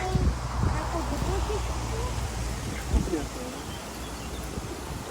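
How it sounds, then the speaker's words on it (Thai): Strong wind gusting steadily across the microphone outdoors while wild vegetables and hanging flower clusters are picked abroad, with a low constant roar and a brief louder gust near the middle; a person talks over it. "ลมแรงมากมากเลย"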